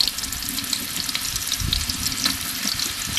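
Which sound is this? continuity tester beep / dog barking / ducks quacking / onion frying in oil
onion frying in oil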